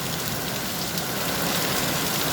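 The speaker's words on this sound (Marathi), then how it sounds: "पाऊस अत्यंत जोरात आहे बघा खूप जोरात आहे पाऊस" Heavy rain roars at night in a dense, unbroken wash of noise, loud and close, with no pauses, as wind shakes the trees.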